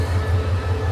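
Steady low rumble and hum inside a crowded third-class train carriage, a continuous close drone with no clear voices standing out.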